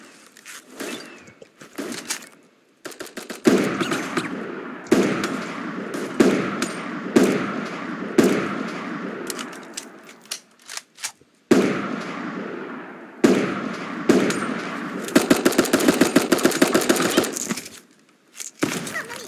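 Rifle shots in the cartoon battle royale game Super Animal Royale, heard as sharp, crackling bursts of rapid pops in repeated volleys separated by short silences, fairly loud and close.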